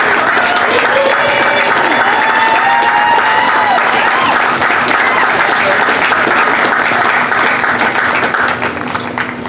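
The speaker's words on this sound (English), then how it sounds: "give her a great round of applause" Sustained audience applause fills the air at the opening day ceremonies of the Ulster County Fair, a dense, steady wash of many hands clapping close by that holds loud for nearly ten seconds before easing slightly at the end.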